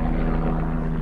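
Steady engine drone of an aircraft passing overhead near a fishing spot, a continuous low hum with strong tonal bands holding level throughout, fairly loud and alone without talk.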